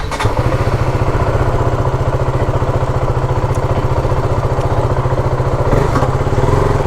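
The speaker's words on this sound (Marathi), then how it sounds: "कोल्ड स्टार्ट हे बघ" Motorcycle engine on a cold start, a loud, close, steady putter of rapid even firing pulses that runs throughout, rising slightly near the end.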